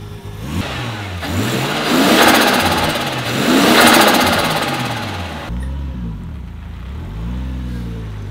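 Close and loud, a Mazda RX-7 fitted with a swapped R33 engine revs repeatedly, its pitch rising and falling through several throttle blips before settling into a lower, rougher idle-like rumble near the end.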